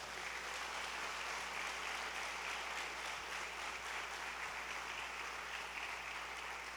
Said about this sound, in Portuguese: posso ouvir uma salva de palmas a Jesus?